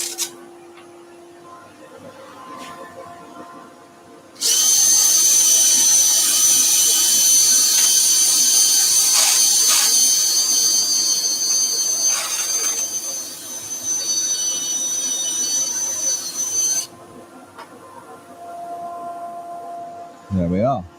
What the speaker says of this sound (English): now we go with 240 on the power sander